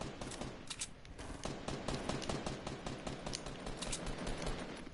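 Dense bursts of rapid video game gunfire crackle continuously through a shooter match, loud and close, with no clear talking over them.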